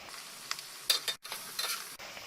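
Suji (semolina) balls frying in a little oil in a pan, with soft intermittent sizzling bursts and stirring scrapes that rise and fall over about two seconds, with no talk.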